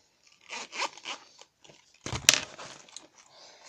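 Zipper closure on a wallet being pulled open close up, a few quiet scratchy ticks followed by a sharper zip and fading rustle, with no talking.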